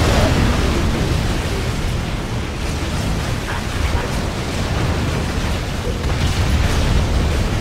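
Volley-fire explosions from units in Halo Wars on the Beachhead mission roar as a steady, dense wall of rumbling blasts and crackle, sustained and loud for several seconds with no pauses.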